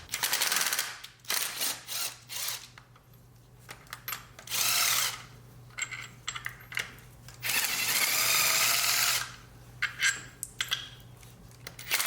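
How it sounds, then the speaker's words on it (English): A power drill or impact driver removes bolts from a car engine during repair, firing in repeated loud bursts of whirring and ratcheting separated by short pauses, with a faint steady hum underneath. "and then using the drill."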